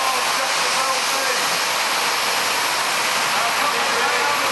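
Jet engine fitted to a tiny car roars steadily at a live motor show in Dublin, a loud continuous rushing whine throughout.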